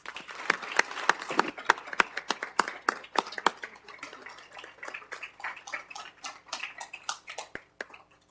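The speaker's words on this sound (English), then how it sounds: "Let's give them a round of applause." Sparse, scattered clapping from a small group at a city council meeting, individual claps distinct and uneven, fairly faint and fading out by the end.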